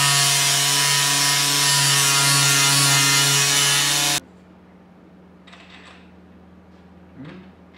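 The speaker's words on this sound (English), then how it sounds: "This machine polishing's a bit aggressive." A machine polisher works aggressively on the bodywork of a Ford Fiesta ST180 being fitted with a wide body kit, a loud steady whine running for several seconds before stopping abruptly, leaving quiet background with faint handling noises.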